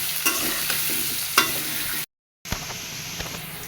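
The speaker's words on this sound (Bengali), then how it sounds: "লবণ, হলুদ, আলুগুলো ভালো করে ভেজে নিতে হবে।" Potatoes with salt and turmeric sizzle in hot oil while a spoon stirs and scrapes the pan, brief louder clatters standing out; the sound cuts out for a moment, then the frying and stirring resume.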